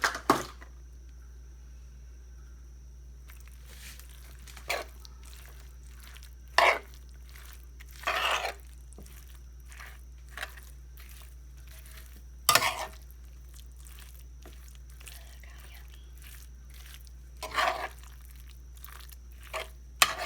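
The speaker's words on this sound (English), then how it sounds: "I'm going to put this sour cream in here, and I'm going to start mixing everything up." A spoon stirs sour cream into a squash casserole in a cast iron skillet, making scattered wet scraping and squelching strokes with pauses between them over a low steady hum.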